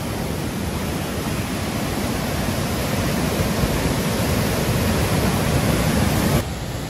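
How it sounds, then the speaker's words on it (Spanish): A steady, roaring wash of falling water from a waterfall in Oyacachi, Ecuador, loud and constant throughout, dense and close with no pauses. "ya llegamos a la segunda cascada y última de este recorrido"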